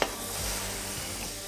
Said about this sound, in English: I'm hearing a nice sizzle.